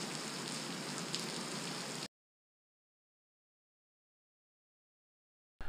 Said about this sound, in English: other times rain starts blowing in and I got to close the hangar.